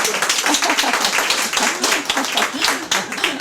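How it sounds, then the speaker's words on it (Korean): Steady audience applause fills a lecture hall at a fermentation specialists' continuing-education session. The clapping is dense and continuous, with a few voices faintly mixed in. "여러분들 마음이 안 드시 벌떡 일어서시도록 박수가 부족하신 것 같습니다."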